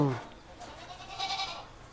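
A goat bleats in a wavering cry, heard just after a brief voice at the start, moderately close in an outdoor setting.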